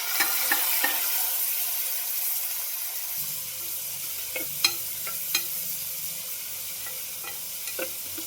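Chopped onions, mustard seeds and curry leaves fry in hot oil with a steady, bright sizzle, broken by scattered sharp pops and crackles.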